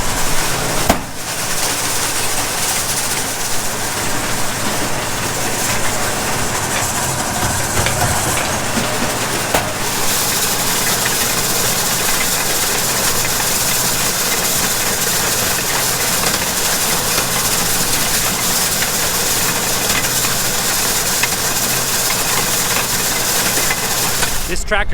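Tractor engine running steadily while seeding ryegrass on GPS guidance, a continuous broadband drone with a sharp knock near the start and a brief shift around ten seconds.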